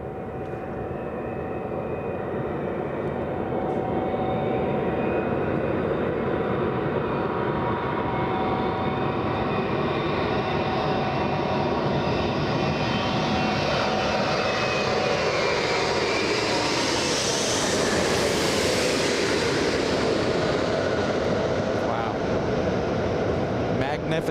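An airplane landing at Los Angeles International Airport makes a loud, sustained engine roar that swells and then rises in pitch as it passes, with a voice talking faintly underneath.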